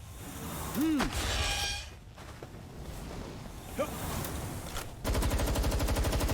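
Loud rapid gunfire and weapon bursts crackle from the video game Palworld during a boss fight against Jetragon, with a whooshing sweep, brief quieter gaps and a dense closing volley, while a voice speaks indistinctly underneath.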